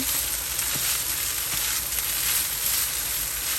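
Rice with onion and shallot sizzling and crackling steadily in a hot pan for pepper shrimp fried rice, a dense continuous frying hiss with a few faint clicks, no talking.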